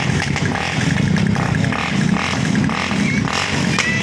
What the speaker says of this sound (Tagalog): Ito po yung motor.